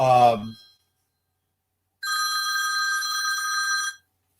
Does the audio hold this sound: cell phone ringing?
yes